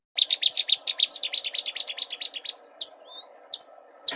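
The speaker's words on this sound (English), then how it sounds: "you walk by a bush, you won't see the bird, it'll be 3 feet from you, and it'll just burst into that song" A migrant bird bursts into loud, close song from inside a bush: a fast run of bright repeated chirping notes followed by a few separate whistled phrases, with no voices.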